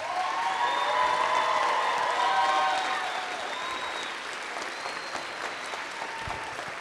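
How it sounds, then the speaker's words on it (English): School variety night audience giving a round of applause for a teacher, dense clapping with some cheers and whistles that eases to lighter, steady clapping. "let's give Miss Wielinga a round of applause"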